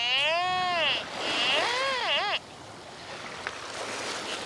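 A Quest X10 IDMAXX metal detector emits warbling, wavering electronic tones from salt water interference that sweep up and down, then stop, leaving quiet background hiss.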